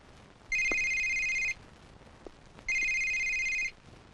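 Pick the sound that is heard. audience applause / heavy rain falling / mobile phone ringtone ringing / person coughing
mobile phone ringtone ringing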